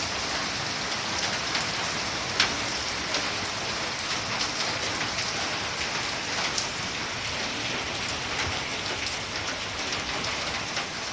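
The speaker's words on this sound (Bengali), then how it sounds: "এই বাড়িতে আসছি, এই বৃষ্টি আরম্ভ হয়েছে।" Steady rain falls on a house and garden plants, a continuous dense hiss of drops on surfaces, close and moderately loud throughout with a few sharper drips and no talk.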